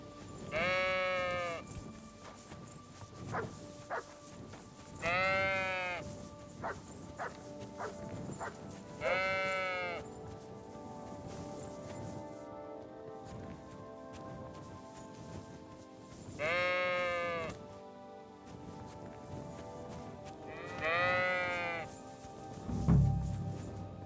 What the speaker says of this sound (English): I think I already got those sheep.